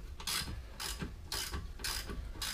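A ratchet loosens brake bolts on a 2013 Kia Sorento during a rear brake job, giving five close, rhythmic bursts of rapid clicking with short gaps between the strokes.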